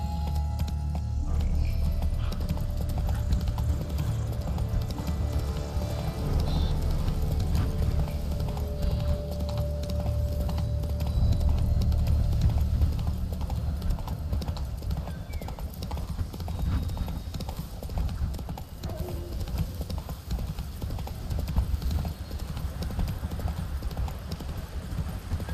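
Roach the horse trotting in The Witcher 3, hooves clip-clopping in a steady rhythmic patter under continuous low background ambience for the full stretch, with occasional faint game voices.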